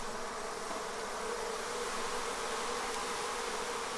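A honeybee swarm drones with a dense, continuous buzz of many insects, steady and moderately faint throughout the few seconds.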